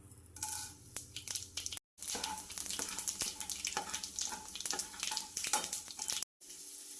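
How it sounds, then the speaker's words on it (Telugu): Mustard seeds splutter in hot oil for tempering a broad beans and dry fish curry: a close, steady sizzle packed with sharp crackling pops, broken by two brief cuts. "ఆవాలు ఇలా చిటపట్లాడాక ఉల్లిపాయలు వేసుకోవాలి."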